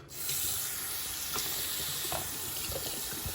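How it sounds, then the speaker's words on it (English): Water draining out of a chicken's bath in a sink, a steady rushing gurgle that runs at an even level throughout with a few soft splashes and no talk. "So let's drain the water and start the drying process."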